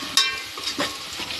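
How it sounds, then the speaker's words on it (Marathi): Chopped onion fries in a pan while a utensil stirs it, giving soft sizzling with a sharp scrape near the start and a few lighter stirring strokes afterward, close and alone with no voices. "कांदा फ्राय होतोय आपला"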